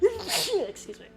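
One short sharp human sneeze up close, then a person speaking briefly right after.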